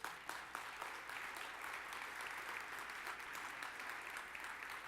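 An audience at a developer conference applauds after a talk on iOS tooling. The steady, dense clapping is fairly faint and distant and holds evenly throughout.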